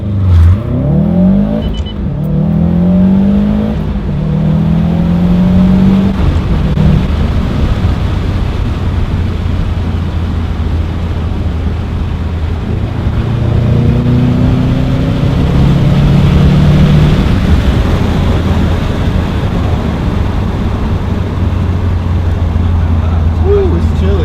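A Subaru STI with an Invidia Q300 exhaust and hi-flow catted downpipe accelerates hard on a cold day, heard from inside with windows down, as a steady engine drone rising through the gears with a brief shift pause.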